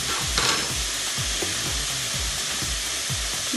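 Bacon frying in a pan for carbonara, a dense, bright, close sizzle with rhythmic scraping strokes of a utensil stirring every half second.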